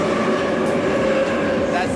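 Continuous rumbling of a Moscow metro train passing close by outside a bunker door, a dense steady roar with a high whine running through it.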